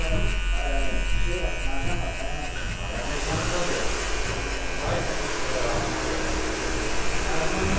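An electric hair clipper with its lever open buzzes steadily and loudly throughout, cutting a high fade haircut, while someone talks over the constant motor whine.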